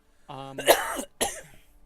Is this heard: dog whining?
no